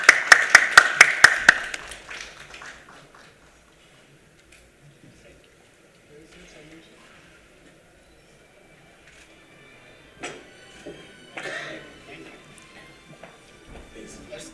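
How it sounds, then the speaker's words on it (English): Brief burst of audience clapping at a panel on frontline worker safety, a quick run of sharp claps in the first two seconds that fades, followed by quiet room noise and scattered knocks. "Can we have a huge round of applause for all of them?"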